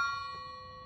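Thin metal weight plates strike each other once, giving a bright, bell-like ring. The ring is faint and fades slowly over the second.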